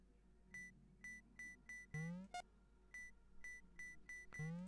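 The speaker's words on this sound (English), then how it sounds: "the beeping of the box is actually quite a tune" Repeating electronic beeps from a box in a Five Nights at Freddy's fan video game, short bright tones in an uneven rhythm with a few rising chirp sweeps, loud and alone with no talking.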